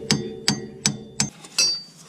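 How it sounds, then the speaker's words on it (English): Light hammer taps drive a bolt through the axle assembly of a 1988-1991 fourth-generation Honda Civic, four evenly spaced, sharp metallic knocks followed by a fifth, slightly longer ringing strike, close and alone. "some light taps with the hammer to"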